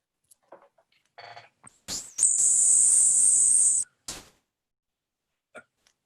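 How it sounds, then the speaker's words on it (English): A grasshopper sparrow song played back from a field guide recording: a thin, very high insect-like buzz holding steady for about a second and a half, preceded by a few brief soft ticks, with faint sounds before and after. "Sibley has this grasshopper sparrow song."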